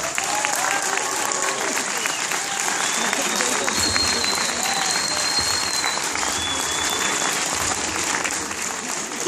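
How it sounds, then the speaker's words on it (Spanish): A crowd at a Star Wars fan convention in Argentina gives Count Dooku costume a strong round of clapping, continuous and full for the whole stretch with some crowd noise mixed in. "Fuerte aplauso para el Conde Dooku."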